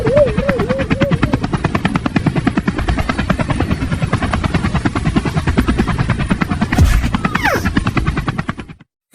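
A cartoon helicopter's rotor thumps in a fast, steady rhythm close by as it lands, with a few short whooshing sounds near the end before it cuts off.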